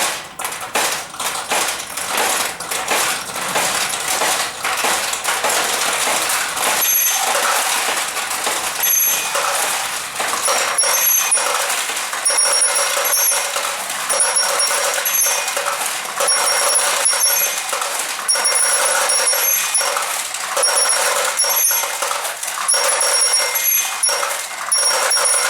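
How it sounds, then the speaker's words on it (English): Nishijin pachinko machine in play, a dense continuous clatter of small steel balls dropping and pinging through the pins, with bright bell-like chimes and electronic tones running steadily throughout. "Now we'll just play Pachinko."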